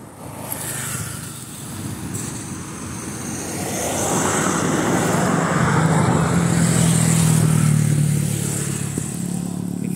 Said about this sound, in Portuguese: Tem que ficar de olho nos carros aqui